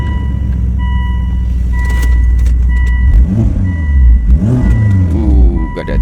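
A 2005 Volvo S60 R sedan with an AWD turbo engine rumbles loudly at idle, then revs up twice in rising, throaty pulls close to the listener.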